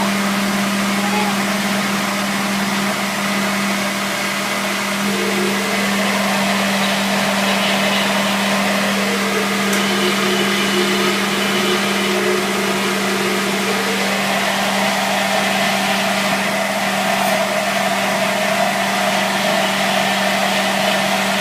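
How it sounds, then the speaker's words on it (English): A Vitamix blender purees raw zucchini alfredo sauce in a loud, continuous motor roar with a steady hum that shifts slightly in pitch as the mixture thickens, running for about twenty seconds without talk. "Doesn't take long in the Vitamix."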